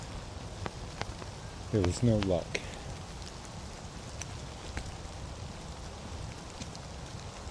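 Rain falling outdoors at a creek while fishing, a steady close patter of drops with scattered sharper ticks, continuing under a brief spoken remark.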